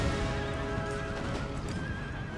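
Hussar cavalry horses whinny and neigh with clip-clopping hooves in the video game Total War: Empire, a loud cluster of overlapping neighs over steady hoofbeats during a charge.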